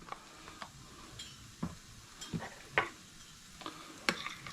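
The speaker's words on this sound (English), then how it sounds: "Give it a little stir up" A spoon stirs breadcrumbs soaking in full cream milk, making faint, soft scrapes and occasional light clinks against the bowl, spaced irregularly in a quiet kitchen.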